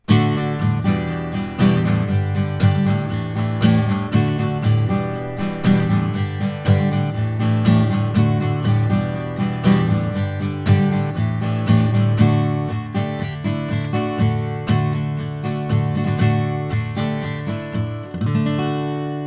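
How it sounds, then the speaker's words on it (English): Acoustic guitar recorded with a Neumann condenser microphone, strummed and picked in a steady rhythm, close and full-bodied with clear string detail, playing alone for the whole stretch. "This is a Neumann, a real microphone, in front of my acoustic guitar."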